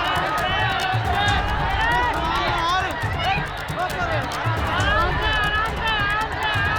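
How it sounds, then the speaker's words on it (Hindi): Panicked crowd at a temple stampede in Kalkaji, Delhi, screaming and shouting continuously in a loud, dense roar of many voices close by, with chaotic hubbub throughout. "आप देखिए कितनी बड़ी संख्या में भीड़ है, लोग चीख रहे हैं, चिल्ला रहे हैं।"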